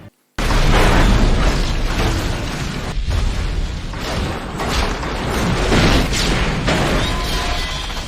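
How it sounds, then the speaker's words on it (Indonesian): A train derails and explodes in an action film, a sudden heavy burst after a brief silence giving way to sustained roaring, crashing rumble and debris that stays loud and dense to the end. "kereta keluar jalur dari relnya dan meledak"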